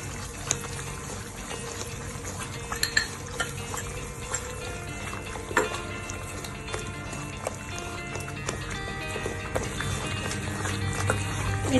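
Egg korma masala with yogurt is stirred in a pan over steady bubbling and sizzling, with scattered spoon scrapes and taps throughout.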